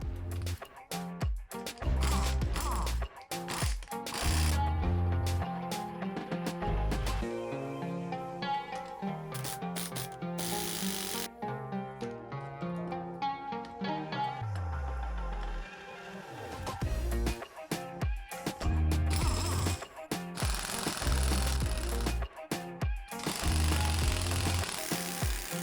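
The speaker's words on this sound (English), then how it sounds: "I'm going to compress the springs so that I can safely separate the shocks." Rapid bursts from an impact wrench drive a spring compressor on the rear shock springs of a 1998-2005 VW Passat B5.5 4-Motion. The loud hammering comes in repeated runs with short pauses between them.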